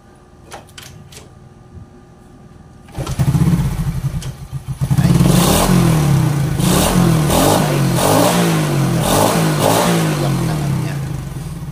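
A few quiet clicks, then a hard-starting Euro 110 motorcycle engine starts up nearby and revs repeatedly, settling into a loud, rough running idle.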